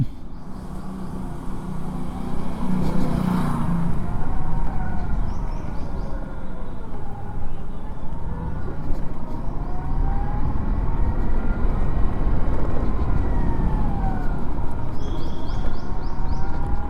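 A Suzuki e-Access electric scooter rides smoothly along a road. Steady, loud wind and road rumble fill the ride, with a faint motor whine that rises and falls in pitch throughout.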